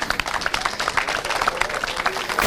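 Applause and clapping break out for Gloria, a winning club president, at a lively gathering, with dense, steady crowd clapping filling the whole stretch and some voices mixed in.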